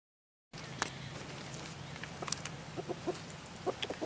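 After a brief silence, several chickens cluck softly and intermittently at close range over a low steady hum.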